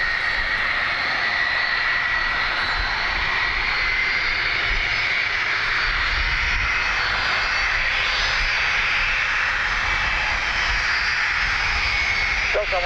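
Airliner jet engines on runway 28 right at Dublin Airport, a steady loud whine and roar holding through the whole stretch, with radio voices talking over it.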